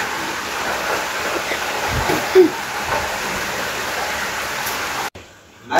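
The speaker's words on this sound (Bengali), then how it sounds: "বাইরে হচ্ছে টিপ টিপ বৃষ্টি পড়তেছে" A soft, steady hiss of light rain falls continuously, with a brief louder bump partway through before the sound abruptly drops away near the end.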